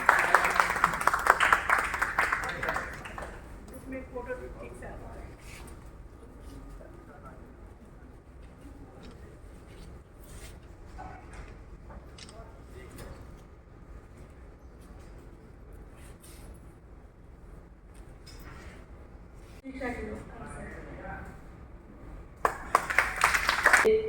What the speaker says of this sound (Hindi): एक बार इन बच्चों के लिए जोरदार ताली बजाएंगे आप।